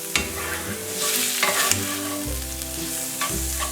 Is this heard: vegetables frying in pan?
yes